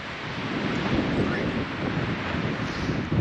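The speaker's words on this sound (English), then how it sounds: "it is freaking windy out" Strong wind roars and buffets a microphone continuously at a camp near Pikes Peak, Colorado, a dense low rumble with no pauses, loud and close throughout.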